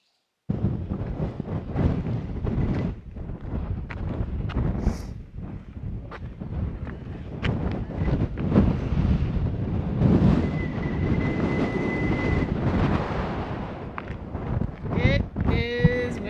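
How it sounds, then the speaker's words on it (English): Strong, steady wind buffets the microphone outside the Shoshone Ice Caves in Idaho, a loud continuous rushing roar that lasts throughout, with faint voices talking underneath. "It is windy."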